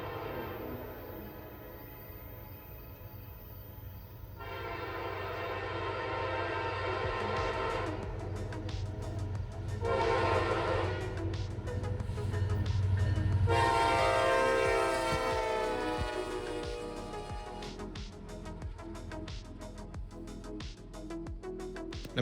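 A Norfolk Southern heritage locomotive rolls past with a steady low rumble and clattering cars, sounding several long blasts of its horn, loud and near, with no voices.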